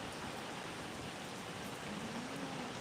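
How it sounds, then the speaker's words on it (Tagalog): Steady rain falls in a constant, even hiss, close and unbroken for a few seconds, with a faint low tone running beneath it. "it's raining"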